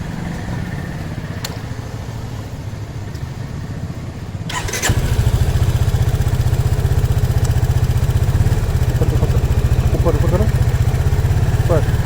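A 2020 Yamaha FZ25 BS6 motorcycle starts up close by, then settles into a steady, thumping single-cylinder idle, with a voice speaking over it.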